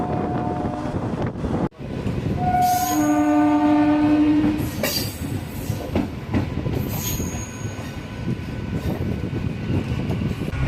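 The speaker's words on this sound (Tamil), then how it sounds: "2 ட்ரெயின்ஸ் கண்டினியூஸாக இருக்குது." A train rolls through a station, close and loud, its horn sounding in long blasts and wheels squealing amid steady rumbling and wind buffeting the microphone.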